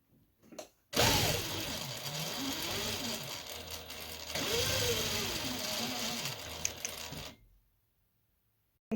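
A sewing machine runs steadily while stitching pocket bags, with two long continuous bursts of motor hum and needle chatter, close and loud, separated by a brief pause; no talking.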